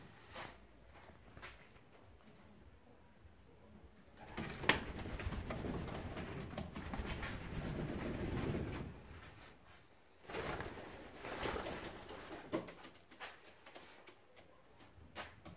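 Fancy ornamental pigeons coo in an aviary, with soft, rolling calls that swell and fade over a low background. Occasional wing flutters and faint rustling break in, and no one speaks.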